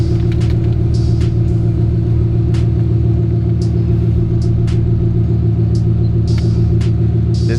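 A Dodge Ram truck engine idles with a loud, steady, deep rumble up close, while faint clicks and taps sound over it.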